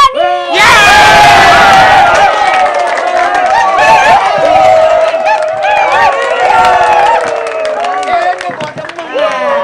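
Audience at a stage show erupts in loud cheering, shouting and scattered clapping as a singer is welcomed, a dense excited crowd roar with voices and whoops rising over it throughout.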